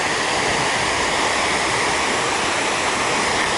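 Water pours steadily down into a pool in New York, a loud, unbroken rushing roar heard close and alone, with no voices.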